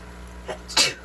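A single sharp sneeze, preceded by a quick intake of breath, close and fairly loud in a quiet room.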